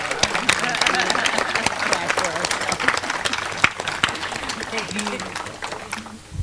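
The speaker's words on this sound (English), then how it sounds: "let's give a big round of applause for the amazing faculty and administration of Wilkes-Barre Academy" Applause for the faculty and administration at a Wilkes-Barre Academy graduation ceremony, a steady wash of many hands clapping across a large audience, with murmuring voices mixed in, tapering slightly near the end.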